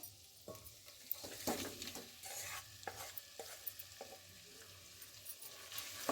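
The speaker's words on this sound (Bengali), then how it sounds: "এবার আমি ভেজে রাখা আলুগুলো দিয়ে দেবো" Fried potatoes added to chicken korma in a pan: dull thumps and scraping stirs over a faint sizzle, spread irregularly through the clip at close range.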